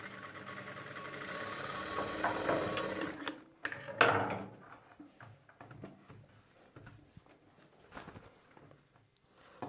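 A tailoring sewing machine stitches beside a shirt collar in a rapid continuous whir for several seconds, then stops and gives way to short intermittent bursts of stitching and handling clatter.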